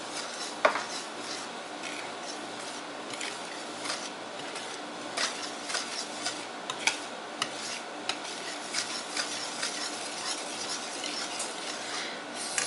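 A whisk scrapes and rubs steadily against a bowl, mixing dry ingredients for a blueberry coffee cake, with a soft continuous rasp and small clinks close by.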